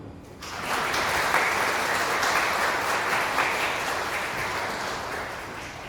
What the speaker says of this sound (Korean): 여러분의 큰 박수 부탁드립니다.